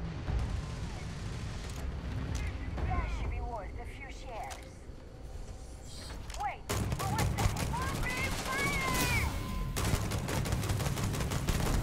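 Gunfire in the space game Starfield, a chaotic firefight of rapid automatic bursts and scattered shots, some distant and some closer, growing denser and louder in the second half.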